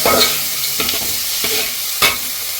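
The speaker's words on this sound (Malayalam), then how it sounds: "തക്കാളിയും പച്ചമുളക് ഇട്ട് നല്ലോണം ഇളക്കാം" Tomato and green chilli stirred in a hot frying pan for rava upma, a steady close sizzle with a few spoon scrapes against the pan.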